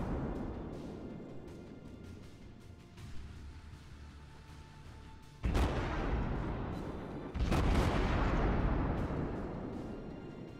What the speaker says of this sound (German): sehr viele Salven und Schüsse, die dann da beim Gegner ankommen.